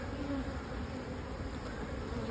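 Honey bees buzz around nucleus hives in a dense, continuous drone that stays steady and close throughout.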